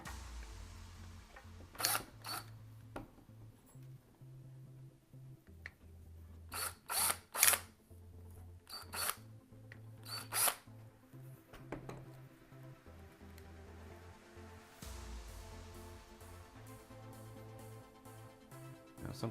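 Power drill drilling out the rivets of a 2017 Ford F-150 grill emblem, working in several short bursts of whirring with pauses between, close and loud, with no talking.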